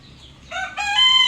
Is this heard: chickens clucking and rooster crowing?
yes